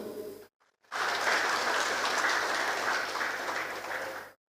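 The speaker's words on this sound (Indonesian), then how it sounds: "Aplaus itu." At the opening of a church council gathering in Papua, an audience breaks into loud, sustained applause lasting a few seconds before it cuts off.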